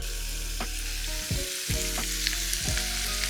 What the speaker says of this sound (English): Oh, it's really sizzling now.